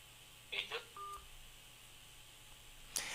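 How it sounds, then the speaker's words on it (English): Electronic telephone tones as a phone call drops, a few short beeps and a brief steady tone over a faint hum, followed by a sharp click near the end; quiet and close, with no speech. "I'm so sorry we lost Alex on phone"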